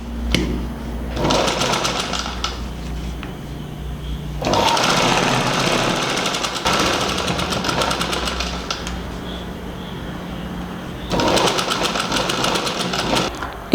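Sewing machine stitching the side seams of a baby frock, running in long steady bursts with brief pauses between passes, close and fairly loud with no talking.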